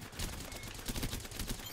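Rapid gunfire bursts from Apex Legends Mixtape mode, a dense continuous fusillade of automatic shots with crackling impacts, loud and steady throughout the short stretch.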